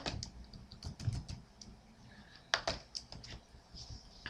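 Keys on a computer keyboard are struck in quick, irregular taps and clicks at close range, fairly faint, with no talking.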